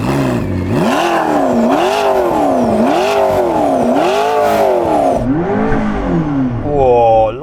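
A McLaren P1's 3.8-litre twin-turbo V8 revs repeatedly, its pitch rising and falling in a steady wavelike rhythm, loud and close, ending in a sharper climbing rev.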